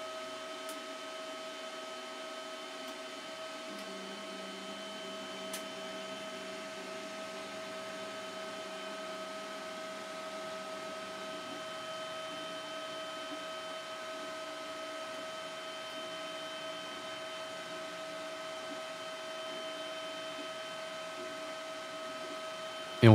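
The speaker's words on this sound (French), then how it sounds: "un bruit de ventilation de l'alimentation de l'imprimante qui reste très présent" An Elegoo Neptune 3 Max 3D printer runs with its power supply fan whirring, a steady tonal hum with several sustained pitches that holds evenly throughout, plus faint motor tones shifting early on.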